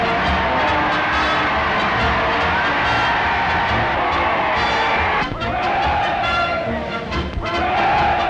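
Crowds of soldiers lining French roads cheer for King George VI in 1940, a dense, continuous roar of many voices with shouts and whoops, steady and loud throughout with a brief dip midway.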